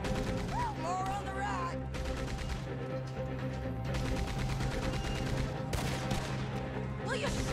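Gunfire in Red Dead Redemption 2 during a shootout, with shots and bursts mixed into dense game music and effects; people talk over it throughout.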